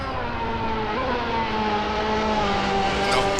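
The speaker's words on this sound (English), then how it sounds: "Driving the brand new for 2015 Lamborghini" A 2015 Lamborghini race car in a racing video game on the Nordschleife, its engine holding a steady, loud droning tone throughout, with a slight pitch shift midway and no talking.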